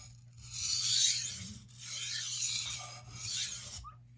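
Steel bevel of an 8 inch carving knife worked on a sharpening stone, giving a steady raspy scraping in a few long strokes, close and fairly quiet, with a faint low hum behind it.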